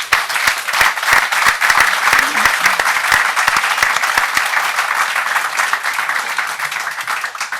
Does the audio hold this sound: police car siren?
no